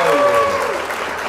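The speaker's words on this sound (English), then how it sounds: "What a big clap, boys and girls." A brief, dense burst of children clapping at a puppet show, with a voice heard faintly over the applause as it tapers off.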